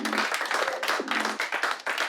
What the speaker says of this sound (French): Je pense qu'on peut quand même s'applaudir.